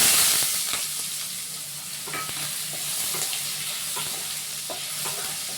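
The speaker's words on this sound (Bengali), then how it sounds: "আলুটা খুব সুন্দর করে মানে ভাজা হবে" Continuous sizzle of potatoes frying in oil, with occasional scraping and clicking as they are stirred around the pan, moderately loud and close.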